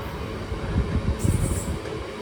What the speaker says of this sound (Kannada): KSRವರೆಗೂ ಟ್ರೈನ್ ಹೋಗುತ್ತೆ